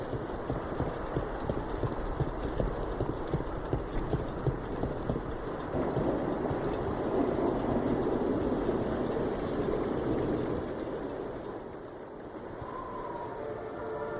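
Steady rain patters and hisses throughout, with low rumbling underneath, growing a bit fuller midway before easing off, in the video game Dragon Age: The Veilguard.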